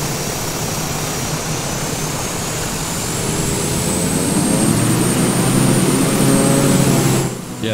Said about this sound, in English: Then you always gotta test the engine.